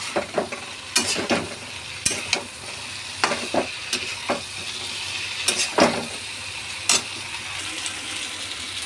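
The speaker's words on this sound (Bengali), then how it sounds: "এখন সয়াবিনটা ভালো করে কষিয়ে নেবো একটু সময়" Soybean chunks sauté in a pan, a soft background sizzle broken by repeated sharp scraping strokes of a spatula stirring them at irregular intervals.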